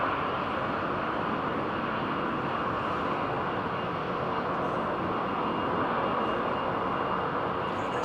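A steady, loud roar of jet engines from an airliner at London Heathrow Airport, a continuous broadband rumble that stays even throughout with no voices over it.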